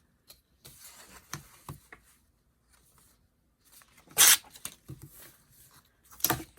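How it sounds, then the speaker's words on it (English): Paper torn by hand for a stacked flippy envelope craft, several short rasping rips with quiet pauses between, the loudest tears near the middle and end, no voice. "I'm going to tear it."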